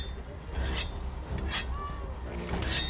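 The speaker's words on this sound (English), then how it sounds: "we will sharpen our weapon" Whetstone-style sharpening of a weapon in a video game, heard as three raspy scraping strokes spaced about a second apart over a steady low background hum.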